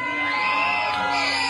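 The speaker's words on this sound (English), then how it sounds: "Anyone here from Liverpool? Give us a big scream." A live crowd in a sports bar in Towyn screams, whoops and cheers together at full volume, a loud sustained wall of voices with shrill shouts riding on top throughout.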